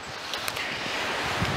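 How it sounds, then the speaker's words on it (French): Wind blowing through fig and ash trees beside a vineyard on a cold April day, a steady broadband rush with leaf rustle and gusty swells close to the microphone. "Donc le vent arrive quand même jusqu'ici."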